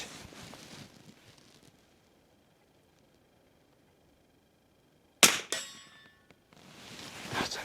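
Mossberg Palomino Model 400 lever-action rifle firing a .22 rimfire CB short, a single sharp crack with a metallic ring after a quiet pause, with handling noise before and after.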